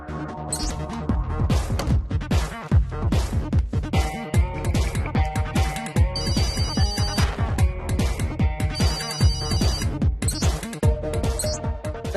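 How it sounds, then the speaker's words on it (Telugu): A loud electronic ringtone plays a busy, repeating melody with beats, continuous for the whole stretch and with no voices over it. "చూడు చూడు త్వరగా ఫోన్ రింగ్"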